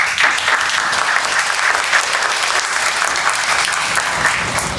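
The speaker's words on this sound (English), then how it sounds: "I think she deserves a clap." Steady, loud audience applause during a university conversation event, dense and even clapping from many people that holds for the whole stretch without tapering.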